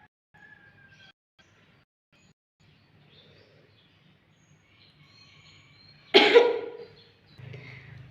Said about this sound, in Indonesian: Diusahakan untuk batuknya itu sedikit agak kuat, supaya sekretnya dapat dikeluarkan dengan baik.